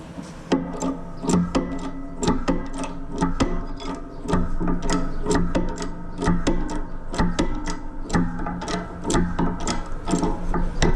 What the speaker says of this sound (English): I'm gonna press it